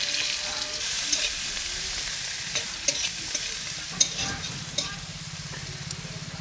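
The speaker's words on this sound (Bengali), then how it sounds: "কড়াইতে সামান্য পরিমাণ সরষের তেল দিয়ে দিচ্ছি। কুচনো পেঁয়াজগুলো দিয়ে দিচ্ছি।" Chopped onions fry in mustard oil in a wok, a continuous close hiss and sizzle punctuated by a few sharp stirring knocks, with no one speaking.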